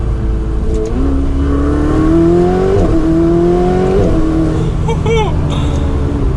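A Ferrari 488 Spider's exhaust, heard from inside with the roof up and the rear window lowered, climbs in pitch through several revving pulls with a rising engine whine under continuous talk.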